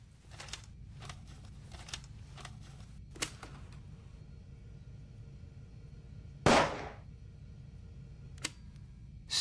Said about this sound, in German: Auf dem Tonband ist ein Schuss zu hören